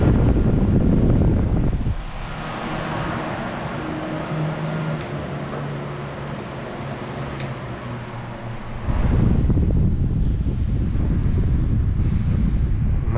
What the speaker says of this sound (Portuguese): As outras duas potências já tem um pouco de barulho, mas ventila bem.